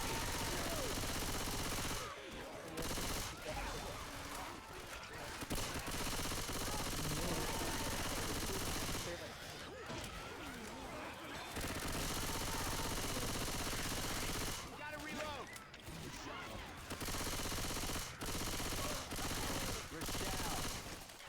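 Rapid gunfire from the Left 4 Dead 2 Dark Carnival campaign, with dense bursts of automatic fire in several clusters separated by brief lulls, loud and close throughout.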